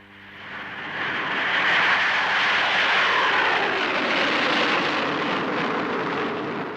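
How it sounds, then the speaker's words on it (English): A Handley Page Victor jet bomber's engines roar steadily and loudly, a broad continuous rushing drone that swells in the first second and then holds near and powerful throughout. "aircraft like the Victor can carry Blue Steel at treetop height below an enemy radar screen"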